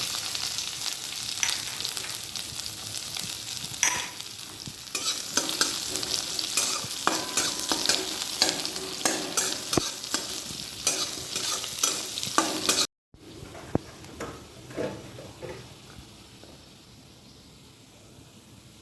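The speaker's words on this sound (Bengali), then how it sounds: "পেঁয়াজটা ভাজা হয়ে গেছে দেখো" Onion frying in a pan for a watermelon-rind vegetable dish gives a steady sizzle with repeated scraping stirs close by, briefly cut off near the end before resuming more quietly.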